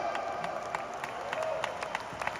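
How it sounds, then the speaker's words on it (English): Audience at a motivational event clapping for a person training to become a professional skydiver, a steady, fairly soft applause with scattered individual claps throughout. "Can we all give boss a round of applause today?"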